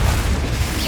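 Confringo blasting spell exploding in Hogwarts Legacy, a deep, loud boom with a rumbling burst filling the short moment.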